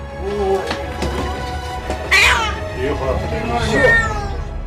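A kitten stuck in a car wheel cries and screams loudly in repeated strained meows, close by, over a constant low hum and other background noise.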